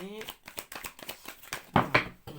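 Tarot-style cards for a nine-card draw are shuffled and laid out by hand, giving soft, quick papery flicks and taps close by, interspersed with a person talking.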